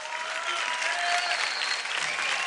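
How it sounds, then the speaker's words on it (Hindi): Dense audience applause for dance contestant Hardik fills the hall at a Dance India Dance Season 3 elimination, steady and close with a faint crowd murmur beneath. "जोरदार तालियां हो जाएं हार्दिक के लिए।"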